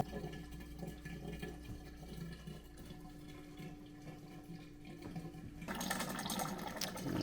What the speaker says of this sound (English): once the siphon starts, oops, I'll put it directly in the floor sink, and then I'll clip it on and the whole mixer will drain.